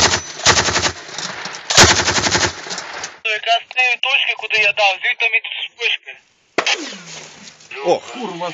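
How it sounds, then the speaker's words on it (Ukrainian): Sharp bursts of automatic gunfire ring out in a combat zone under enemy sniper fire, two loud rapid volleys up front followed by tense shouting voices and scattered cracks. "оскільки снайпер стріляє"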